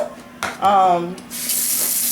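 Tap water runs into a pot of rice to wash it in a home kitchen, a short gushing splash that shifts into a steady hiss of running water, close and fairly loud, with a brief voiced sound amid the flow.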